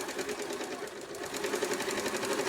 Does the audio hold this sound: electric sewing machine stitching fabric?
yes